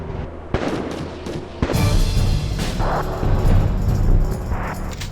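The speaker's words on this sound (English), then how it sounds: "The sound of flying bullets and explosions was hard to imagine." Gunfire and explosions from the war video game Heavy Fire: Afghanistan: a few sharp separate blasts at first, then a loud, dense barrage of rumbling booms and crackling shots continuing throughout, with no talk.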